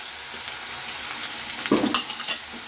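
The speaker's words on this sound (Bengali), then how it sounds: "তেলের ওপরে পেঁয়াজটা আমি দিয়ে নিচ্ছি।" Finely chopped onion frying in hot oil for a Bengali fish curry, a constant close sizzle broken by a burst of stirring scrapes and clatter near the end, with no speech.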